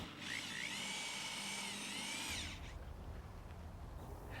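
A power screwdriver drives #12 by 3/4 inch stitch screws into metal roofing at a perforated Z flange, a steady high whine that fades after about two seconds into a lower rumbling noise, moderately loud with no voices.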